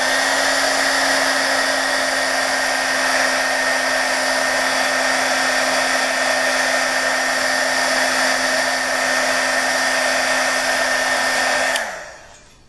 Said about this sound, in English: I'm just gonna hit this with a heat gun really quick.